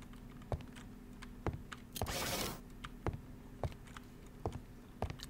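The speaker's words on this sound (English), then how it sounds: "I'm typing." Sparse, faint keystrokes tap on a computer keyboard in an irregular rhythm, with one short burst of a rustling, broadband noise partway through.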